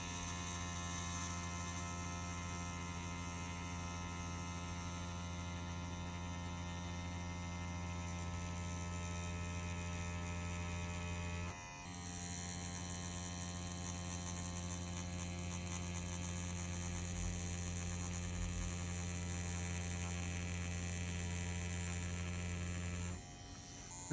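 An EZ P6 rotary tattoo machine fitted with a 9-round liner runs at 3.7 mm stroke and 7.5 volts, giving a steady electric buzz and hum that continues without a break, pauses briefly midway, then resumes at the same pitch.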